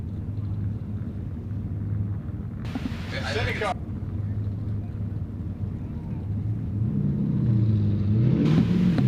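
A Nissan Z pro drift car on a Texas track, its engine a continuous distant rumble that builds toward the end under a commentator's talk.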